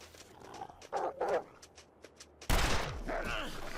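A revolver fires a single sharp, loud shot in The Long Dark, ringing out with a long echoing tail after some quieter in-game sounds and a few short bursts of voice just before.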